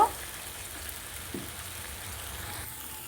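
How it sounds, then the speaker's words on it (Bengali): Ground dried chilli and cumin paste sautéing with a little water in a pan gives a faint, steady low sizzle throughout, with a soft clink near the start. "শুকনো লঙ্কার জিরে দিয়েছি সামান্য জল দিয়ে ভালোভাবে কষে নেব"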